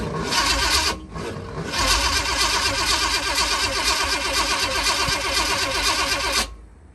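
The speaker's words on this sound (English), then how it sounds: "The engine was still just cranking. It wouldn't start." A 1969 Cutlass with a swapped-in 454 big-block V8 cranks steadily without catching, loud and close, with a brief pause early on before the starter resumes and runs for several seconds.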